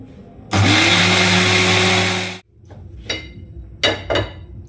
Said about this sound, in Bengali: সব একসাথে ব্লেন্ড করে নেব